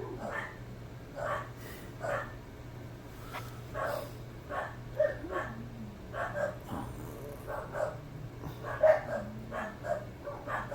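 Several dogs bark repeatedly in the distance, with a steady rhythm of faint, muffled barks heard indoors over a low, constant background hum.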